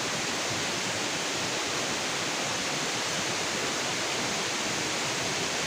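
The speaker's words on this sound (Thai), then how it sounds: "น้ำตกนักพวนครับ" Nang Khruan waterfall in Tak province, Thailand, heard as a steady, even hiss of falling water, moderately soft and constant throughout with no voices over it.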